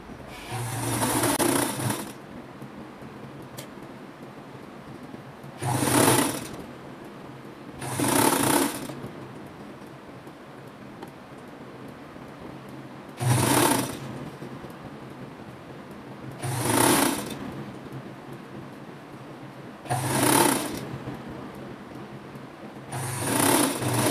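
A sewing machine stitches fabric for a flared evasê dress in six short, loud bursts of whirring, separated by quiet pauses while the cloth is repositioned.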